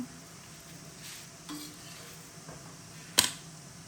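A chana dal and wheat flour dosa cooks on an oiled griddle with a soft, quiet sizzle and a few light scrapes, then a single sharp metallic clink near the end.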